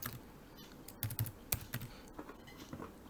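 Typing on a computer keyboard while entering age data into a spreadsheet, heard as a quiet, irregular run of light key clicks with a few sharper taps, close and alone with no talking.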